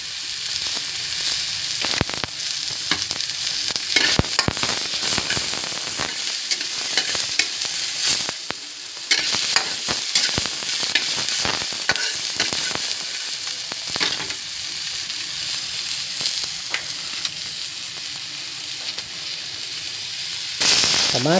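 Garlic sautéing in a pan for sinigang bangus, a steady loud sizzle running throughout with repeated stirring scrapes and clatters, no talk.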